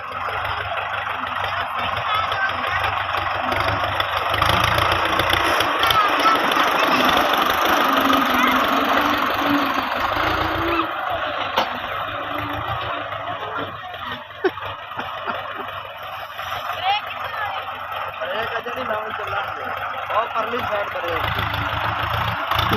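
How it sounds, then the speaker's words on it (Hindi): A tractor engine idles and runs steadily as a young woman drives it in a village, a constant mid-pitched drone lasting throughout, with voices talking over it. "तो माशाल्लाह बहुत प्यारा ट्रैक्टर चला रही"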